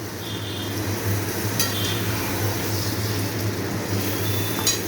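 Chicken pieces frying in a pan over a high flame for a chicken curry, a steady loud sizzle with occasional clinks of a spoon stirring against the pan.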